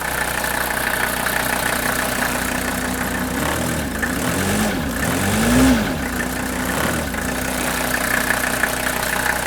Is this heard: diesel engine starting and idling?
yes